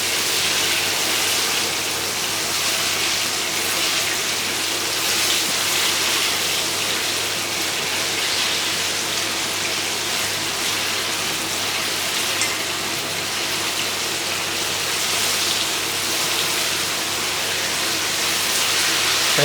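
Garlic chicken pieces deep-frying in hot oil for Cantonese garlic fried chicken, a loud, steady, hiss-like sizzle of moisture bubbling out, continuous and unbroken throughout with no talking.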